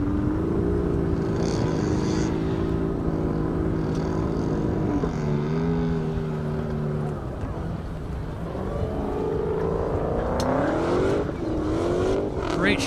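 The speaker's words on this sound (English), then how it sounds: "Here comes Ashley in the McLaren" Drag racing cars, a McLaren and a Dodge Hellcat, launching at an airport airstrip event, loud engine roar with rising revs and shifting tones filling the whole stretch, crowd and commentary noise underneath.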